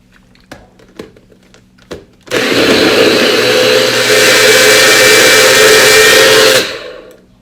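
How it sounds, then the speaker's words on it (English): A few sharp knocks and clunks as the jar settles, then a kitchen blender roars to life blending papaya and cantaloupe with water, a loud steady whir for about four seconds before cutting off abruptly. "I'm adding just enough water to the papaya and the cantaloupe, and now I am ready to blend"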